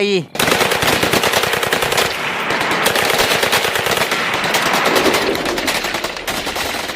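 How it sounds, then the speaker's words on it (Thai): Sustained, dense machine gun and small arms fire in a battle scene, loud and continuous with rapid overlapping bursts and no pauses. "ข้าศึกซึ่งเชื่อว่าหลบอยู่ในที่กำบังมั่นคงแข็งแรง และอดทนนิ่งเงียบตลอดชั่วโมงกว่าเริ่มเปิดฉากใช้อาวุธนานาชนิด"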